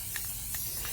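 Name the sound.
Rust-Oleum 2x Ultra Cover paint spraying onto vase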